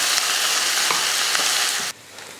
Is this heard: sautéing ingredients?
yes